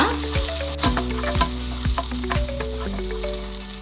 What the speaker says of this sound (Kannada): ಇದು ಚೆನ್ನಾಗಿ ಹಸಿ ವಾಸನೆ ಹೋಗೋವರೆಗೂ ಫ್ರೈ ಮಾಡೋಣ